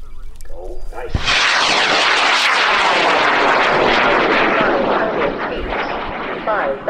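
A high power rocket ignites at an outdoor launch range in Argonia, Kansas. After a brief quiet moment, a sudden loud roaring blast swells into a sustained crackling rumble that slowly fades as the rocket climbs, with voices heard over it.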